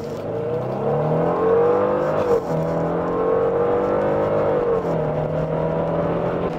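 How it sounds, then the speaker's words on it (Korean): A Genesis G90 flagship sedan accelerates hard from a standstill to 100 km/h. Its engine note climbs steadily, drops briefly at a gear change, then climbs again in another long pull, heard from inside the cabin and loud throughout. "시속 100km 가속 시간 한번 체크해 보도록 하죠."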